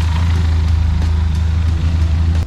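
A Benelli TRK502X adventure motorcycle engine idling after an oil change, a loud, steady low throb with even firing pulses running continuously, close by and alone.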